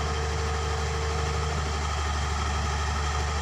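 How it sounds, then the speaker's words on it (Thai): A Komatsu PC200-6 excavator's diesel engine idles unrevved while loading laterite, giving a loud, steady low throb with a constant hum throughout and no talk. "ไม่เร่งสปีดเครื่องยนต์เลย"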